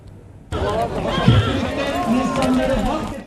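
Horses whinny amid a busy outdoor din at a rahvan (ambling) horse race, with hooves clopping on the track and a crowd murmuring in the background.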